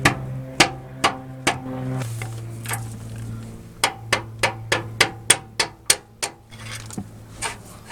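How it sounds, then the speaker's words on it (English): A hammer pounds a bolt out of a 2000-2006 Toyota Tundra steering rack, sharp metallic strikes in several quick rounds, close up, with a faint hum underneath. "just gonna pound this bolt out"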